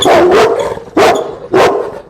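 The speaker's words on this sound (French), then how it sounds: "je donne le dos au chien, mais il aboie de moins en moins" A dog barks three times in a loud, close, spaced series, with the dog gradually barking less while a trainer stands with their back turned to it.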